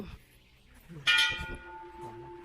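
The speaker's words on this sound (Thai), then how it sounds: "ระฆัง" A single temple bell at a Thai temple strikes loudly and rings out with a lingering metallic hum, preceded by faint background sounds.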